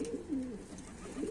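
Domestic pigeon cooing softly at close range, a low throaty warbling coo rising and falling over a quiet background, with no one talking.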